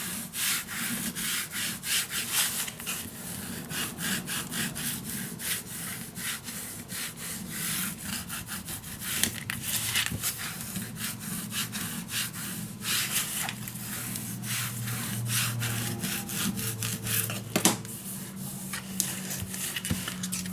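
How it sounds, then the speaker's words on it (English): A tool burnishes tape onto paper while a mini album is assembled, a close, continuous scratchy rubbing in quick repeated strokes with brief pauses and some louder scrapes. "I'm gonna burnish the tape extra to the paper"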